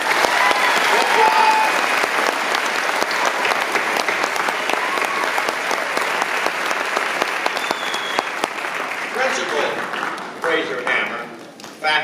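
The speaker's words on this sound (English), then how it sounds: "So I want to give a big round of applause for Mr. Titus Schull and his cabinet and the students." A school assembly audience at a Veterans Day gathering breaks into sustained applause, a dense, loud wash of clapping that carries on for several seconds before thinning out near the end.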